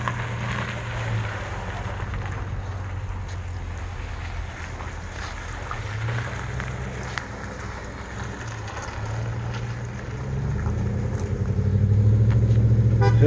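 A tow vehicle pulls away carrying a Trans Am loaded on a trailer, its engine rumble rising toward the end beneath heavy outdoor wind noise.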